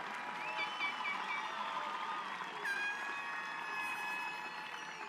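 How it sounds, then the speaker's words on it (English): Graduation audience applauding the class of 2026 at a Northern Highlands ceremony, a steady wash of clapping from a large crowd with a sustained tone ringing over it. "How about a round of applause for the class of 2026?"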